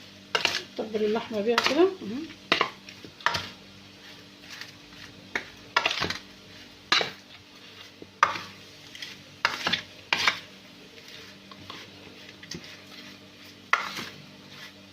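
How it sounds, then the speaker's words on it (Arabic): Meat seasoned with spices, black pepper and a spoonful of sugar is stirred by hand, producing repeated scraping and clinking strokes against the pot at close range while someone speaks. "نقلبه كله في بعضه كده يا حبايبنا"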